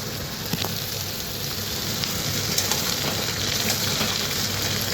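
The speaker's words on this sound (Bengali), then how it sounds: "ভেজে নিয়ে এই কাটা লাউ আর আলুটা দিই।" Chopped bottle gourd and potato fry in hot oil with green chillies and five-spice, a continuous close crackling sizzle with small scattered pops, steady throughout and no voices.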